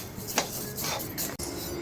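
Urad dal being stirred and roasted in a pan for idly podi, with a few close, distinct metallic scrapes and clinks of a utensil against the pan over a quiet background, no voices.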